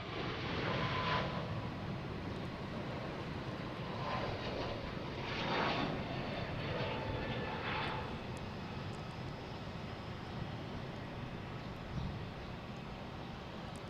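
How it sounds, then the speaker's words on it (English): Delta Airbus A321neo jet airliner at Boston Logan International Airport, its engines producing a steady, broad roar that holds throughout at moderate distance, with no talk over it. "here's Delta heading to San Francisco. A321 Neo, flight 977."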